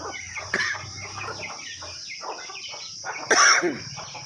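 Country chickens on an integrated farm cluck and chatter close by in a steady, overlapping flock murmur, with a few louder squawks and a flutter of wings.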